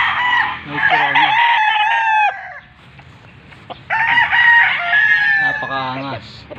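A rooster crows loudly and close by twice, each call a long, harmonic cock-a-doodle-doo with a short gap between the two, in a small backyard poultry yard.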